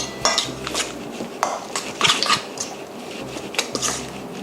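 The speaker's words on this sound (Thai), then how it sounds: "โหระพาผมจะสับไปเลยนะฮะจบเรื่องไปเลยเนาะ" A knife chops Thai basil leaves on a board in quick, uneven bursts of crisp taps, close and clear with no talk, while making grilled mushroom hor mok.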